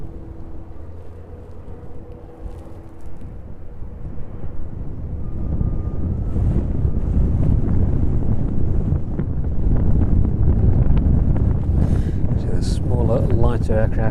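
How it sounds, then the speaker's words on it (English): Heavy wind buffets the microphone in loud, low rumbling gusts that build steadily, with a distant engine drone underneath, at an airport plane-spotting spot in the evening. "A little bit too windy for that one."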